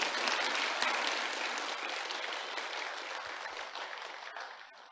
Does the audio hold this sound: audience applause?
yes